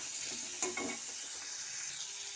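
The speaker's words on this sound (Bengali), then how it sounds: "আদা আর রসুন কুচি দুটোই একসাথেই দিয়ে দিচ্ছি, দিয়ে একটু ভালো করে আমি ভেজে নেব" Chopped ginger and garlic fry together in a pan with a steady, fairly quiet sizzle, broken by a few soft stirring scrapes near the start.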